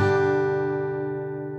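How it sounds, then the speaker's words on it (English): A single guitar chord is strummed once and left to ring, its bright attack slowly decaying over nearly two seconds with no talking. "A chord sounds like this."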